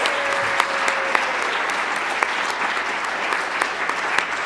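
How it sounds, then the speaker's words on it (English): Loud, sustained applause from a conference audience for a group of presenters on stage, thick continuous clapping with distinct nearby claps popping out, plus a brief tone early on. "Let's take a minute and a round of applause for all 10 presenters."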